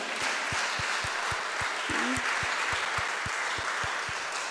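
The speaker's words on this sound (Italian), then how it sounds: "un applauso ancora" Steady applause from the audience for author Luigi Dal Cin at the Pavese Festival 2022, a dense wash of clapping with a low regular thumping beneath it and a brief voice-like tone near the middle.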